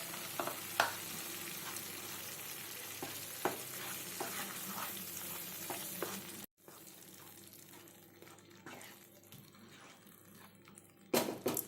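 Cashew, poppy seed and onion paste frying in masala gravy for mushroom masala, a steady loud sizzle with stirring clinks, briefly cutting out then resuming more quietly before a final stir.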